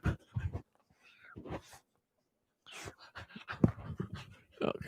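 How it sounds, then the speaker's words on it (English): A pet dog pants and snuffles up close in quick breathy bursts, broken by a couple of brief silences, fairly faint and with no talk over it. "Okay, puppies."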